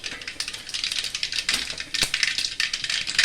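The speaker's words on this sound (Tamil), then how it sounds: "சட்டியில் எண்ணெய் ஊற்றி கடுகு போட்டாச்சு" Mustard seeds spluttering in hot oil in a pan, the first step of a Tamil mor kuzhambu (buttermilk curry); dense, rapid crackling and popping close by, steady for a few seconds with no talking.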